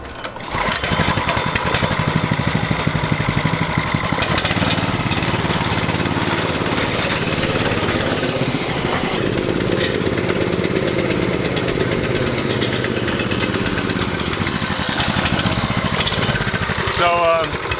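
Small mini bike engine from a barn find, running unevenly without its choke: a loud, close, rough putter that sputters and threatens to die throughout, with voices faintly under it.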